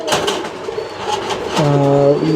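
Paired running mukhi pigeons coo inside a numbered cage, an almond-coloured and a black bird with two chicks, their low rolling coos rising clearly near the end over a soft background of rustling and faint chatter.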